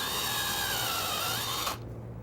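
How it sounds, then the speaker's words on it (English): A power drill fitted with a brad point bit cuts a shallow counterbore into wood for a screw head, whining steadily and close up for under two seconds before it stops. "I want to drill down just deep enough that the screw head will disappear below the surface."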